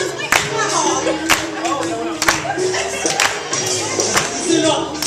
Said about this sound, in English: Stand up there. Clap your hands.